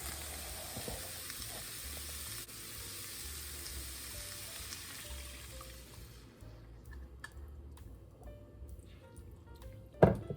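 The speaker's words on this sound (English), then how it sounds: "Now we're going to pour this right in with our ground beef." Sauce mixture poured over ground beef in a hot pan gives a steady sizzling hiss that gradually fades, with a few faint clicks and a brief knock at the end.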